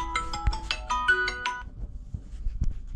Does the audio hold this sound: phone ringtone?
yes